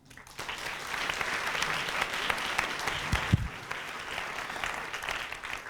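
A live audience claps steadily for a panel at an evening Women in Technology and Media event, dense applause filling the room throughout with a couple of brief louder knocks near the middle.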